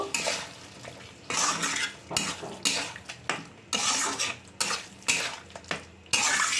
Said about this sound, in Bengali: দিয়ে এবার আমি এটাকে ভালো করে মিশিয়ে নেব